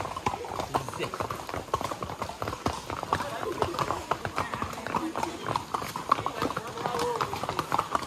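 Steady horse hooves clip-clopping at a brisk walking rhythm, close by, with people talking over the hoofbeats.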